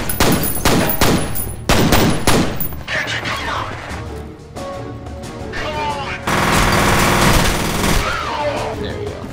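Pistol gunfire in the video game F.E.A.R.: a rapid string of loud, sharp shots in quick bursts, followed by heavier blasts and a sustained roar of combat noise, dense and close, with a voice speaking over parts of it.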